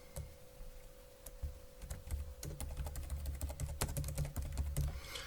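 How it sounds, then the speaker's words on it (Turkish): Rapid keystrokes clatter on a computer keyboard in uneven bursts over a steady low hum, with no voices. "Ben normalde sallamasyon hızlı olsun diye rastgele bir şeyler yazıyorum."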